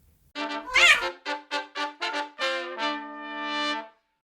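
A kitten meows in a lively series of short, close mews followed by a longer drawn-out cry, clear and alone without other sounds.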